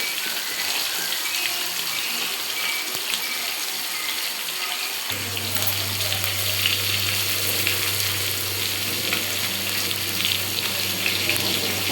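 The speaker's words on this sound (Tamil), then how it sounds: "இது வந்து வெறும் மிளகாத்தூள் போட்டு இந்தமாரி எண்ணெய் நல்லா காஞ்ச பிறகு மீன் போடுங்க" Fish frying in hot oil with chilli powder, a strong continuous hissing sizzle close up; midway a low steady hum joins underneath while the crackle carries on.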